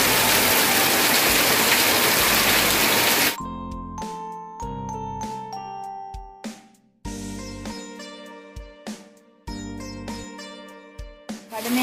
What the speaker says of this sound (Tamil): அப்படி மழை பெய்யுது பாருங்க